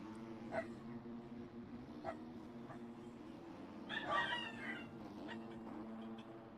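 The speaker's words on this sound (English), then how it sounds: "you'll hear them for a little bit and then they'll stop whining." Dogs whine in the background of a room, faint high whimpers recurring every second or so, with a louder cluster of cries midway over a steady low hum.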